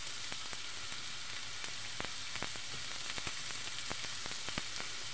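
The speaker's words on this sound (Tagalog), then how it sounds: "Gisahin lang natin para maglabas yung aroma ng ginger" Ginger sautéing in a very hot wok-style pan, a steady dense sizzle running throughout with scattered sharp pops and crackles, close and alone with no voices.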